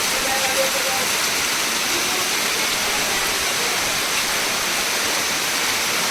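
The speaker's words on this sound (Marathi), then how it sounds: "बघा कसं मस्त पाऊस पडता आता जोर इलो हो पावसात" Heavy rain pours down in a dense, continuous roar, steady and loud throughout with no break.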